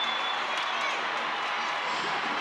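A home crowd at an athletics relay race in Botswana roars and cheers steadily from a distance, a continuous wash of noise with some whistles, under commentary.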